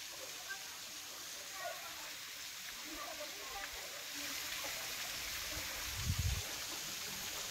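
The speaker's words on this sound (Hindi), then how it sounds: "ये फॉल्स तो बरसात में लग रहा है बहुत भरा होगा, ये बहुत कम पानी है" Gandahati waterfall carrying little water gives a faint, steady wash of falling water, a soft hiss that thickens slightly midway, with a low thump near the end and no talking over it.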